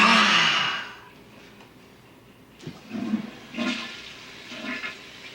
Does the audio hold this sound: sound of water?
yes